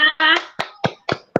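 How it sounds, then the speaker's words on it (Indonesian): Classroom applause during an online teaching session, a short burst of scattered hand claps mixed with voices, about six distinct claps over a second and a half, close and fairly loud. "Tepuk tangan"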